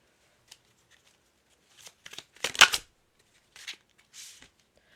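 Tarot cards are shuffled up close in a few short bursts, crisp riffling flutters separated by quiet pauses, with the loudest burst in the middle.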